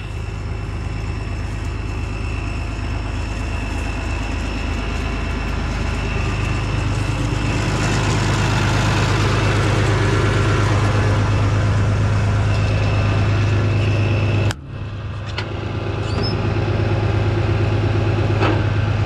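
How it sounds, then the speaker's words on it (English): A tractor plowing a field runs with a loud, steady low engine drone that holds throughout, swelling slightly midway and briefly dipping near the end before resuming. "I'll make a round here real quick just so that I can say I showed you the tractor plowing"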